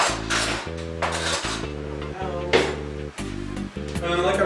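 A metal spoon clinks repeatedly against a ceramic soup bowl holding butternut squash bisque, sharp ringing taps in an irregular rhythm, close and fairly loud, with faint scraping between strikes.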